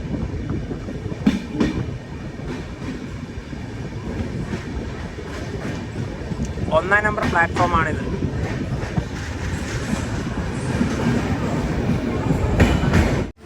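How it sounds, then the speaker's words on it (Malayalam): An express train rolls into Hassan Junction railway station with a steady rumble and clickety-clack of wheels, a brief squeal of brakes partway through, while someone talks over the noise. "ഹാസൻ ജംഗ്ഷൻ റെയിൽവേ സ്റ്റേഷനിലേക്ക് ഇതാ നമ്മുടെ ട്രെയിൻ എത്തിക്കൊണ്ടിരിക്കുകയാണ്"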